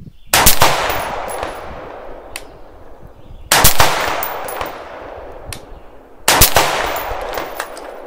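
A rifle fires at a target 100 yards away on an outdoor range, with three loud, sharp shots spaced about three seconds apart, each followed by a long, rolling echo.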